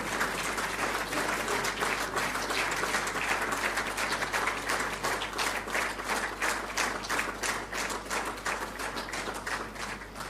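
Sustained crowd clapping at a national photography awards ceremony, about ten seconds of dense applause with individual claps showing through and a low hall hum underneath, easing slightly toward the end.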